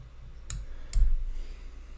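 Two quick, crisp snips, about half a second apart, as scissors cut tying thread at an angle on a Guide's Choice Hare's Ear fly. Close and clear, with no talking.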